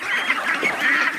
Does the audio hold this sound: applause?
no